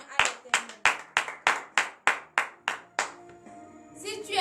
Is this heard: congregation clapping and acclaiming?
yes